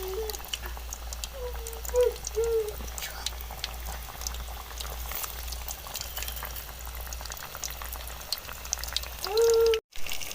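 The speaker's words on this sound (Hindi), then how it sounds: "अब हम इसके अंदर एक एक करके समोसे डाल देते हैं और हम इनको गोल्डन कलर आने तक फ्राई करेंगे" Samosas deep frying in hot oil make a continuous bubbling, crackling fizz. A few brief snatches of voice come through near the start and end.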